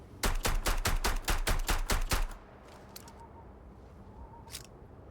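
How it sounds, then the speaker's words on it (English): A revolver in Starfield fires as fast as possible: about ten sharp, loud shots in a quick, even burst, then quiet ambience with a few faint clicks. "Now I'm gonna shoot it as fast as I can."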